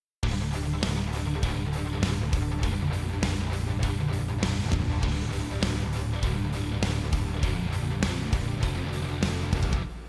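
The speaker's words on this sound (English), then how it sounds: "All I'm doing is hammer-ons and pull-offs on my desired notes on suitable open strings." Distorted electric guitar plays a fast, driving riff with quick hammered and pulled notes ringing against open strings, steady and dense throughout.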